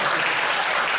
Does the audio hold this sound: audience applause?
yes